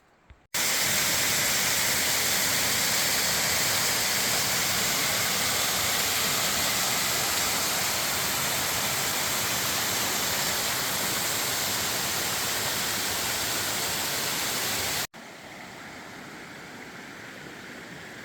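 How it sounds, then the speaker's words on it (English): Stream water rushes steadily at a trail crossing in Maine's 100-Mile Wilderness on the Appalachian Trail, a loud, continuous broadband wash that cuts off abruptly near the end and leaves a quieter flow. "It's our first water crossing of the 100-mile wilderness."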